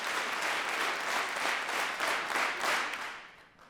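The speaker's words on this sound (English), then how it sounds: "If you can hear me, clap 10 times." A pageant audience claps together about ten times in near unison, each clap landing as a broad, loud burst of many hands in a quick, regular rhythm that tapers off at the end.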